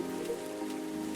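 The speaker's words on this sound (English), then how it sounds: "That's just the rain." Steady, soft rainfall from the café video game Coffee Talk patters continuously on a surface, an even hiss with no voices over it.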